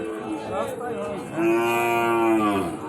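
A Sahiwal cow at a crowded roadside cattle market lets out one long, loud, drawn-out moo after a second of faint background murmur.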